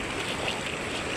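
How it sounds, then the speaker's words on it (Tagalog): River water rushes steadily while someone wades across a river, a close, continuous broadband wash without pauses or voices over a short stretch. "Tawid ko lang dito sa may ilog."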